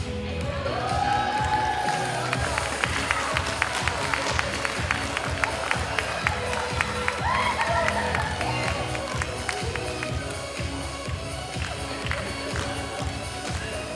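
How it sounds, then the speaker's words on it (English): An audience at a comedy hypnosis show cheers and claps for volunteers doing silly dance moves to music, crowd noise and scattered claps running steadily under an amplified voice. "And audience, cheer them on."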